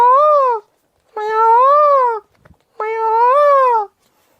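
People in a yoga exercise imitate a peacock's call with their voices: three loud, drawn-out wailing cries with a short pause between each, plus a faint tap in one gap.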